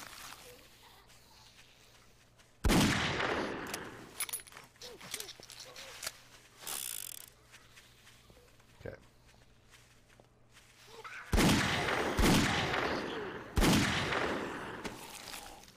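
Magnum revolver gunshots in the video game 7 Days to Die: loud, sharp single blasts in two clusters, with quieter ambience and footsteps in between.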